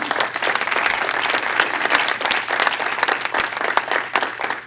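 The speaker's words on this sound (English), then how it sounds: "So I think this is deserving of a round of applause for our panel." An audience at a senior health care talk gives its panel a round of applause, a dense, continuous patter of many hands that holds steady and fairly loud throughout.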